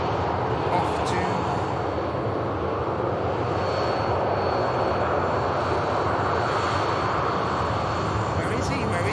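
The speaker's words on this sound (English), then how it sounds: "Oh, the Air France on the taxi out." An Air France airliner taxis out at Manchester Airport, its engines making a loud, steady jet roar and whine that holds unbroken from start to finish, with voices now and then.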